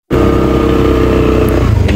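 A motorcycle engine starts abruptly and revs hard, a loud, close, steady roar with a slight rise near the end, heard alone without talk.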